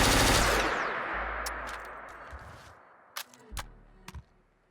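Futuristic laser SMG from the Fallout 4 video game firing: a loud burst of rapid shots that rings out and decays, followed by a few sharp, separate clicks and thumps that fade near the end.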